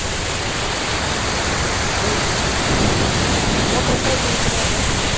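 River water rushing beneath a large bridge: a loud, continuous broadband roar that fills the whole span and barely varies in level.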